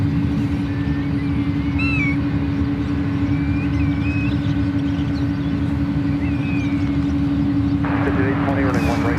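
An American Airlines airliner in Piedmont Airlines retro livery at San Francisco airport, bound for Charlotte, gives off a loud, steady jet roar with a constant low hum, while faint chirps flicker above it throughout.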